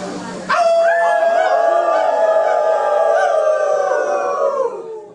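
A group of people howl together in imitation of wolves, one loud sustained chorus of overlapping rising and falling voices that swells in suddenly and fades out after about five seconds.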